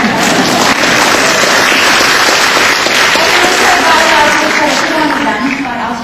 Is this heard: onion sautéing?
no